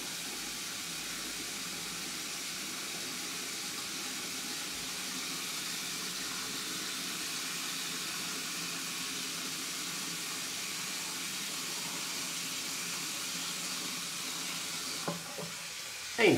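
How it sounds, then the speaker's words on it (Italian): A bathroom tap runs during a traditional wet shave. The water pours in a steady, even hiss that holds the whole time, with a small clatter right at the end. "devo aprire l'acqua perché adesso sarà gelata"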